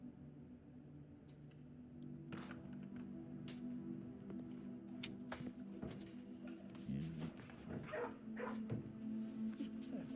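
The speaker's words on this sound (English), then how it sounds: "Pet the doggy. Pet a doggy." Dog whimpering and barking inside the video game Blue Prince, short yips and whines scattered over a steady droning game soundtrack, moderately close and continuous for about ten seconds.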